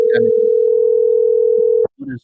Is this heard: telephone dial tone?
yes